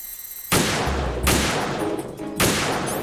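Turret gunfire in Metal Gear Solid 2 comes as three loud, dense bursts of rapid shots. Short pauses separate the bursts.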